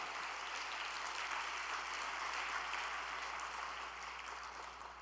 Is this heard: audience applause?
yes